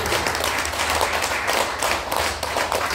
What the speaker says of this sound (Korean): 믿어주신 박수.